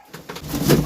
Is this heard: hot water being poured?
no